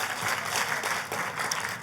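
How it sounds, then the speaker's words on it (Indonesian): A church congregation applauds together, a dense, steady wash of clapping from many hands filling the hall without pause. "Tepuk tangannya yang paling meriah buat Tuhan kita."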